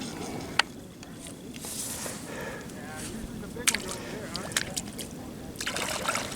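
A freshly dug clam from the muddy flats of Upper Netarts Bay rinsed off with water, soft trickling and sloshing with a few small splashes and squishes, close and moderate in level, while people talk.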